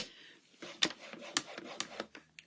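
A scoring blade is drawn across cardstock, making quiet, close scraping and rubbing strokes with a few sharper ticks spread across the clip.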